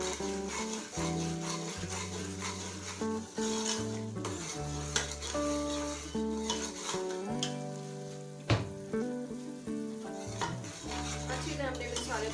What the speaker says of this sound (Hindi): अच्छी तरह हमने मसाले को भून लिया।